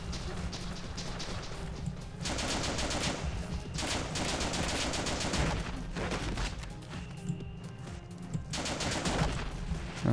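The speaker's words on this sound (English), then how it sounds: "hip firing is horrible with the G36" Rapid automatic gunfire from a G36 rifle fired from the hip in a video game, loud sustained bursts broken by short pauses across the whole stretch, with no talk over it.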